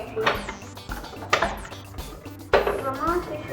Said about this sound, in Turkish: Burada da tencere tava.